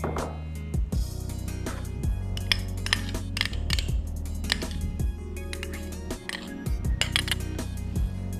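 A whisk beats custard sugar and softened butter in a bowl, with steady, close metallic clinks and scrapes against the sides throughout.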